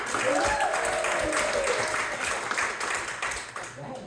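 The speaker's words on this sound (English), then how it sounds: "And applause for Lindy." A small audience applauds for a contestant at a community show, steady clapping filling the room for several seconds before tapering, with a raised voice calling out briefly over it.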